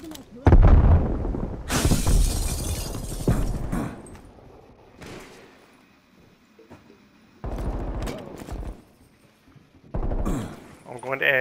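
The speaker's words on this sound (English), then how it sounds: "I hear a lot of gunfire" Gunfire and explosions in the video game Call of Duty: Black Ops Cold War come in several loud bursts separated by quieter gaps, and a player talks between them.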